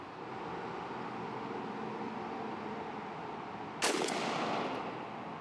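A single 28 gauge shotgun blast firing an 8.5-9 duplex TSS turkey load, one sharp report near the end after steady outdoor background noise, with a short trailing echo.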